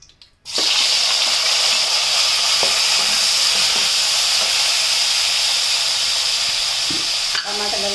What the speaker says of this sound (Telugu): ఇదే నూనెలో టమాటాలు వేస్తున్నాము ఇప్పుడు.